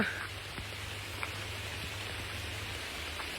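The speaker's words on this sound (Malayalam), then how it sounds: "മഴ വരുന്നുണ്ട്" Steady hiss of rain falling on surfaces around a rubber plantation, even and continuous, with a couple of faint distinct drops, no voices.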